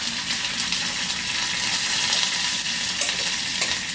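Curry leaves, not very fresh, hit hot oil that already holds dried red chillies and set off a loud, continuous sizzle. The crackling hiss fills the whole moment without any voices.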